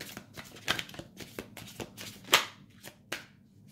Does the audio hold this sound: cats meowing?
no